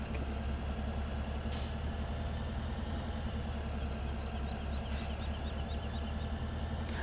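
A tractor engine in Farming Simulator 17 idles with a steady low rumble, joined by two brief sharp hisses like air brakes releasing.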